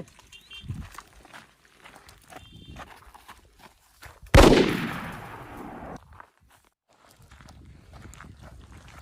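A single sharp, loud gunshot bursts out partway through and rings off in a fading echo, with faint rustling and movement before and after.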